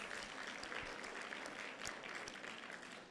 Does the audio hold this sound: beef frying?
no